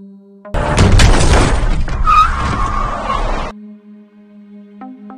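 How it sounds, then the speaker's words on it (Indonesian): In an Indian film scene, a black sedan skids and strikes a teenage girl: a sudden loud burst of screeching tires, impact and shattering noise lasting about three seconds, then cutting back to quiet tonal background music. "Sebuah mobil sedan hitam melintas dan menabrak remaja wanita itu."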